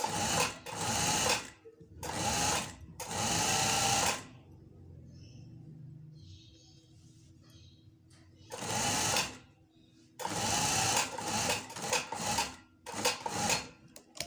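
A sewing machine stitches a shirt at home in several loud close bursts of rapid needle chatter, separated by quieter pauses with faint handling sounds.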